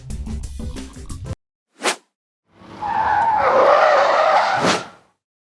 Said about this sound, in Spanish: La primera pasada de la esquiva la realicé a 78 km/h y como se puede ver en las imágenes fue una velocidad totalmente excesiva